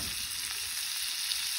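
Steak sizzles in a nonstick pan while it is basted before flipping. The frying is a steady, close, hissing crackle that fills the whole moment.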